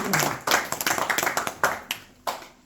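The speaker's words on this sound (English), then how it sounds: "Please give a round of applause to very good." Scattered hand claps from a small group at a Bhagavad Gita study gathering, a loose burst that thins out into a few separate claps near the end.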